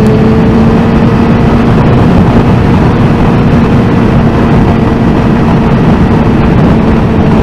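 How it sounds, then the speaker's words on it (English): A 750cc motorcycle engine drones steadily while riding, a loud continuous low hum with a steady pitch and heavy rumbling wind noise, no talking. "This bike is nuts. For a 750, this is way faster than my S-Rod."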